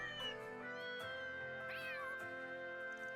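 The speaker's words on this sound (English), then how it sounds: "It plays a collection of cute cat sounds I recorded in the capital." Cute cat meows from the video game Trails Beyond the Horizon play one after another, several drawn-out, tonal mews at steady volume over soft game music, with no talking.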